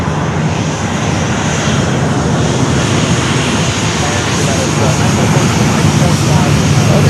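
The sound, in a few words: Southwest airliner racing along the taxiway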